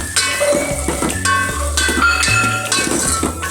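Kantola (spiny gourd) curry with onion is stirred in a sizzling pan, close frying hiss under repeated scraping and clinking strokes of a spoon against metal.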